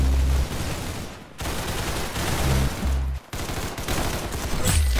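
Sniper rifle fire in a video game comes as loud, booming blasts in rapid succession, heavy and dense, with brief gaps between bursts.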